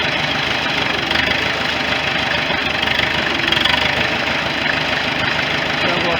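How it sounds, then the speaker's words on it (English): A 1973 International loader tractor's diesel engine runs steadily with a rough, knocking idle, a continuous close mechanical drone throughout. "Listen to the tractor."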